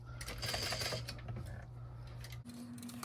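A sewing machine top-stitches fabric on a custom pack, running as a faint, steady mechanical hum and rapid needle chatter for about two and a half seconds before it stops.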